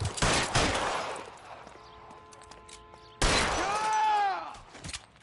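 Loud gunshots and volleys in the crime game L.A. Noire come in two heavy bursts separated by a quieter stretch. Ringing tones follow each burst as it trails off.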